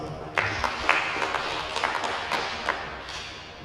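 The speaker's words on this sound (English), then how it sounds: "Give me my clap." Audience at a university staff union annual general meeting gives a few scattered, uneven claps in a large hall, sparse thuds over a steady room hum.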